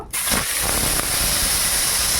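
Three small homegrown tomatoes drop into a hot pan of oil used for frying fish, bursting into a sudden loud steamy hiss that sizzles on steadily, close and with no talking.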